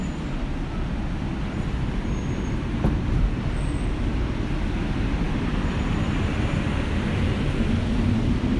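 Steady low rumble of a moving train carriage, a continuous rolling drone with faint rattles throughout, no voices.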